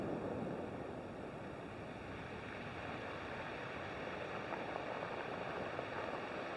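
Surf washes steadily on a beach in Wales, a constant broadband roar that stays faint and even throughout with no talk.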